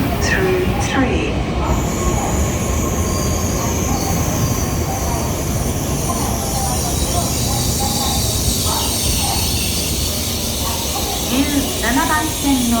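A Tokaido Shinkansen Nozomi N700S train pulls into Tokyo Station, its wheels squealing and brakes hissing loudly and continuously at close range, with station announcements and voices underneath.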